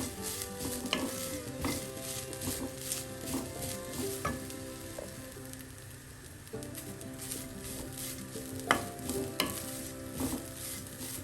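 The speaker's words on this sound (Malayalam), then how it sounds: "ഇടയ്ക്കിടയ്ക്ക് ഇളക്കി കൊടുത്തുകൊണ്ടേയിരിക്കണം." Grated coconut and spices, with a little black pepper, being roasted over a medium flame for a Kerala tuna curry, stirred continuously with a spoon scraping the pan amid a steady dry sizzle, no talking.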